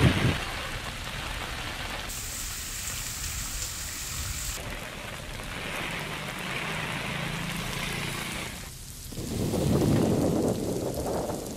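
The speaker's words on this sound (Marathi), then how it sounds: "रत्नागिरीच्या खेडमध्ये तुफान पाऊस सुरू आहे" Heavy rain pours down in Khed, Ratnagiri, a steady close wash of dense hiss that shifts in texture and swells louder toward the end, with no voices.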